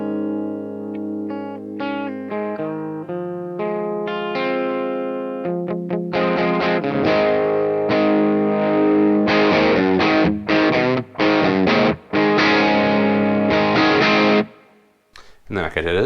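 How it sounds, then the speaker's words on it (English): Electric guitar through a Joyo British Sound overdrive pedal set at the edge of breakup, clean-ish picked notes giving way to loud, crunchy distorted strummed chords with brief pauses, ending in a decay, no talking. "it sounds like a Marshall kind of crank to the edge of breakup"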